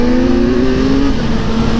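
A Kawasaki motorcycle revving through its exhaust, a loud close engine note holding strong steady harmonics that sag slightly in pitch, alone without talk.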